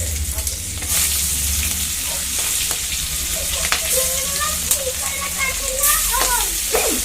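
Fish sizzles and crackles in hot oil in a home kitchen, a steady frying hiss with occasional louder spatters and a low background hum, and faint voices now and then beneath it.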